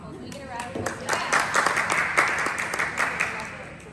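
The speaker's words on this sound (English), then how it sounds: "Can we get a round of applause?" A small crowd claps in a quick, uneven patter that swells to a moderate level and holds for several seconds, with voices mixed into the applause.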